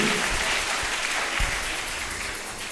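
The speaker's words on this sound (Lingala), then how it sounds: "Acclamons pour le roi des rois" A church congregation applauds the King of Kings in a loud, dense, sustained wash of clapping that fades slightly toward the end.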